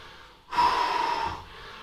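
After high-intensity interval exercise, a single heavy, audible breath rushes in and out for close to a second, loud and near, then settles into quiet background.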